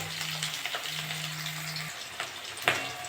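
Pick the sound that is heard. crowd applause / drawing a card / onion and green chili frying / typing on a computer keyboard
onion and green chili frying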